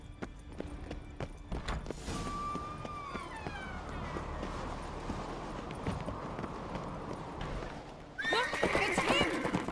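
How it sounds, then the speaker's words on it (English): A horse in the video game The Witcher 3: Wild Hunt whinnies in a long, rising-then-falling neigh, surrounded by clip-clopping hooves and game ambience, followed by a louder burst of another neigh near the end. "Grab a horse, we'll chase him down."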